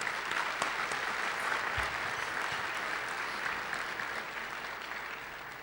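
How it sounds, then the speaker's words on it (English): A crowd at a business forecast luncheon applauds its sponsors, producing a steady, moderately distant wash of many hands clapping that holds evenly for several seconds and tapers slightly at the end. "Let's give all of our sponsors a big round of applause."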